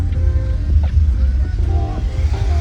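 A car driven along a road, heard from inside: a constant low engine and road rumble, steady and fairly loud, with faint higher tones over it.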